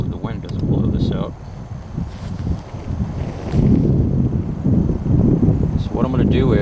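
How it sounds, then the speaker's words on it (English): Wind blowing outdoors and buffeting the microphone in rough gusts, heard under someone talking while he heats a pot of manzanita berry cider tea. "Hopefully the wind doesn't blow this out."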